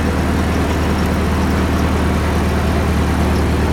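A Ford 8N tractor engine runs close by, its low, steady throb loud and continuous, with no voices.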